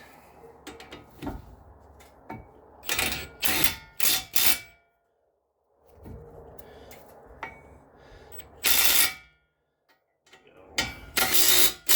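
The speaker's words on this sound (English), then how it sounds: "tighten this down with a little baby impact" Small cordless impact wrench tightening a front brake bolt on a 2013 Ford Edge, several short loud bursts of rattling hammering separated by pauses and quiet clatter of handling.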